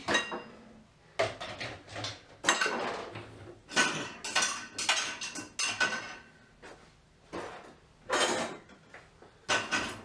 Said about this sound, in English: I had to do some dishes.